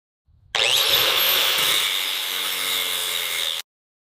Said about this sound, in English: Time to grind.